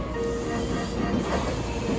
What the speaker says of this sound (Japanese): まもなく1号線に神戸三宮方面へ向かう電車が到着します。